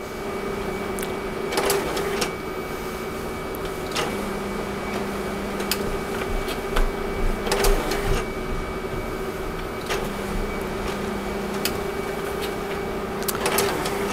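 HP LaserJet Enterprise M806x laser printer running and pulling pages through, a steady mechanical hum and whir with rhythmic clicks and thumps as sheets feed, close and continuous, with no talk.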